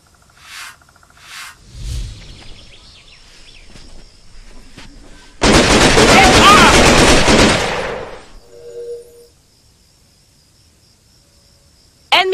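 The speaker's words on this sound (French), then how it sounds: "Il me tire dessus!" Enemy gunfire in the jungle in the video game Raven Squad: scattered shots and short bursts, then a dense, loud stretch of sustained automatic fire lasting a few seconds before dropping back to quieter sporadic sounds.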